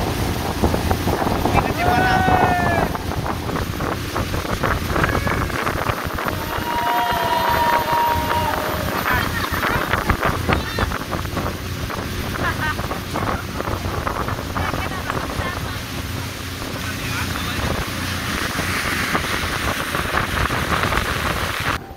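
Jet boat on the Koshi River, a loud steady engine roar mixed with rushing water and heavy wind buffeting the microphone, continuous throughout, with occasional faint voices and whistle-like tones.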